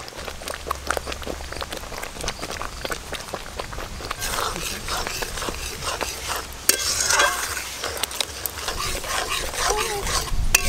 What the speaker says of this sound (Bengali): মোটামুটি আমের কাঠটা ফুটিয়ে ফুটিয়ে আমি হাফ করে নেব